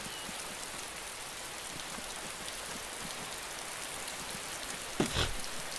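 Steady rain in the video game DayZ, a soft, continuous hiss of falling drops with a brief louder splash or knock about two-thirds through, no voices.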